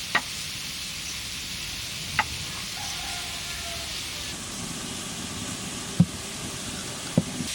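Vegetables sizzle in a pan for a dry foxtail-millet (kaun) khichuri, a steady close hiss broken by a few brief clinks of stirring.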